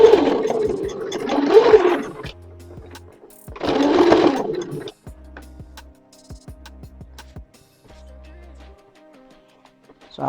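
A sewing machine stitches a shirt's camp collar in two loud, close bursts. Quieter clicks, handling noises and a low hum follow.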